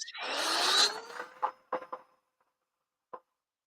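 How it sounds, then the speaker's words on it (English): A handheld dust blower pushes air through a dusty Dell Optiplex 7020 PC, one long close hiss that fades, then a few short puffs and one last brief burst after a pause. "this dust blower is very, very practical. So I'm going to just start by blowing up this dust."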